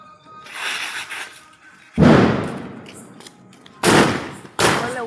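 Diwali firecrackers, set off with a reloadable cracker gun, go off in three sharp, loud bangs at uneven intervals, each trailing off quickly, over a softer crackle at the start.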